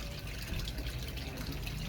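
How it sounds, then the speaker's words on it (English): Water poured into a bowl of flour for bread dough, a steady close splashing gush lasting about two seconds without a break, fairly quiet and with no voices. "I'm going to dump the water in with the flour"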